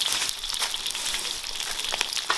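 Dried Sichuan peppercorns and chilies hit hot oil that already holds ginger, garlic and onion, producing a crackling, popping fry with irregular bursts over a continuous hiss, fairly close and moderately quiet.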